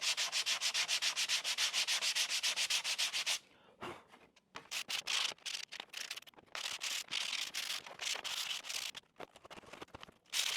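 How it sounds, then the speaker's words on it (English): Wooden sign pieces get light hand sanding: fast, regular abrasive rubbing strokes, loud and close, with a brief pause before more uneven bursts of scrubbing. "So just a little bit of light sanding, and then I'll lightly sand the surface of each piece as well."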